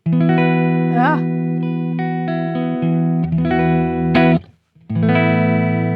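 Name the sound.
electric guitar through clean amp simulation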